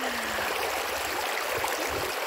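A forest stream flows along a canal near a waterfall, giving a continuous broad rushing and babbling wash of water, steady and fairly close, with no voices over it.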